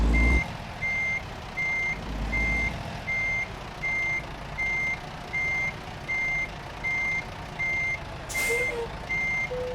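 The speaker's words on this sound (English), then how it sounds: "I'm sorry for the very loud and obnoxious beeping as well." A truck in American Truck Simulator, a Volvo, sounds steady evenly spaced reversing beeps, loud and continuous, with a brief hiss near the end.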